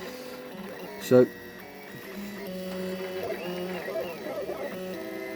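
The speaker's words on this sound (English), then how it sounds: "that's what the printer's doing now. It builds one layer at a time" A 3D printer lays down layers in a steady run of stepper-motor whirs and shifting whines at close range, with someone talking over it.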